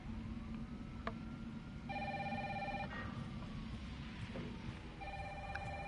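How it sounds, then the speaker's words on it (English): An in-game telephone rings in Resident Evil 3 Remake, two electronic ring bursts about a second long separated by a pause, fairly faint over a low ambient hum with scattered background noises. "The longest telephone ring in history."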